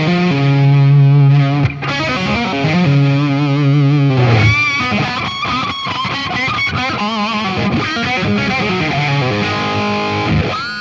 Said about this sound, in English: this was a super cool lick with open strings